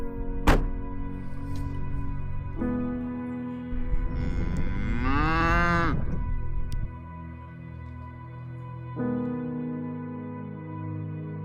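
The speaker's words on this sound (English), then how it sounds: "I saw the Highland cows come up" Highland cattle near the Warren House Inn on Dartmoor give a long, drawn-out moo that rises and falls, set against steady outdoor background rumble and a sharp knock at the start.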